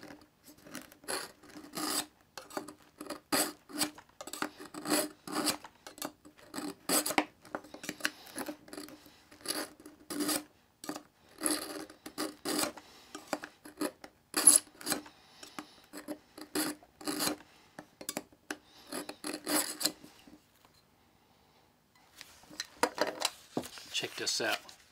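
Knife blade swiped repeatedly through a Smith's 2 Step Knife Sharpener, many quick close scraping rasps in steady bursts, pausing briefly before a few more strokes.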